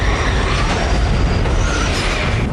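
A fast train rolls past at close range, a loud, dense rumble and roar with rattling wheel noise sustained throughout, no voices.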